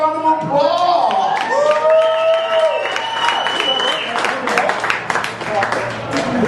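A crowd at a pub retirement roast gives a round of applause, with scattered claps rising under loud voices and cheering close by.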